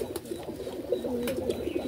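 A green-necked pigeon at a pigeon loft gives soft, low, rolling coos, repeated in a steady murmur close to the microphone, with a few faint flutters or rustles over the top and no voices.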